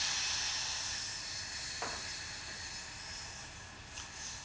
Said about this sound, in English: I'm going to add the juice now to stop the cooking